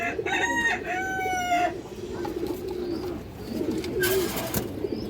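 Pigeons kept as breeding pairs coo nearby among other bird calls, while a loud rooster-like crow rises at the start and again near the end.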